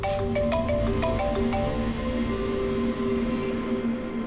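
Phone ringtone playing a repeating electronic melody of short tonal notes, steady and fairly loud over a constant low background hum.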